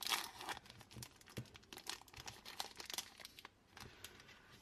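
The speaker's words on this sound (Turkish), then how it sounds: "Bu videomuza Snickers açıyoruz." A Snickers bar's plastic wrapper is crinkled and torn open up close, giving a quick run of sharp crackling rustles and rips, quiet and with no talking.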